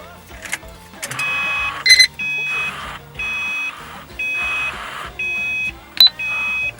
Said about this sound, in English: that alarm is because the car's not running